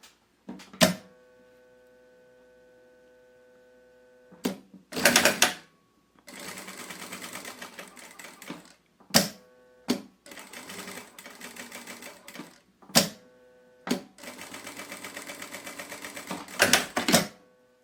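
Domestic sewing machine closing small fabric bags with a half-centimetre seam, backstitching at start and end: several loud bursts of steady whirring stitching separated by short pauses and sharp clicks and thumps, with no talk.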